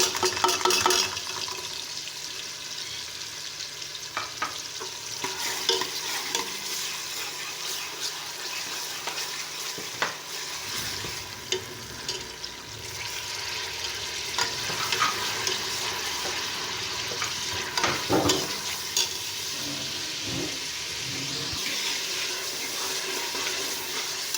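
Ginger and garlic fry and sizzle in a pan with a constant hiss, punctuated by occasional stirring scrapes and clinks, no talking.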